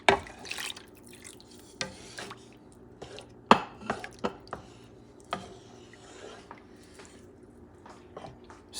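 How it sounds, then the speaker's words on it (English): Beef mechado stirred in a pot with a spoon, a run of irregular scraping clicks and knocks against the pot over a low simmer, close by. "Stirring this stuff a little bit."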